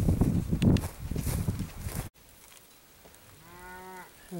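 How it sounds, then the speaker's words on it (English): People talk outdoors, then after a pause a cow lets out a single drawn-out moo at moderate distance. "The cows are cussing us out, I think."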